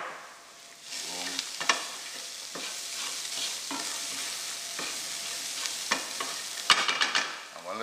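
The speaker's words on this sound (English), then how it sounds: "I'm gonna let it fry for a little bit before I add the coconut milk" Pigeon pea and cassava curry fries in a pot, a steady broadband sizzle broken by several sharp spoon scrapes and stirring knocks, close and fairly loud with no voices.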